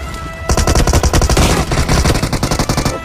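Rapid automatic gunfire from Battlegrounds Mobile India gameplay, loud dense bursts of shots rattling continuously after a brief quieter start, with no talk over it.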